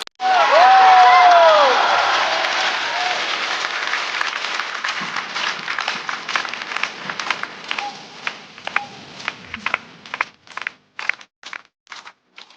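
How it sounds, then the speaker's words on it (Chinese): A live stand-up comedy audience bursts into loud applause and cheering as a comedian is welcomed onstage, the crowd noise swelling early then thinning into scattered individual claps toward the end. "马上要上场的是我们的老朋友，掌声欢迎菜菜。"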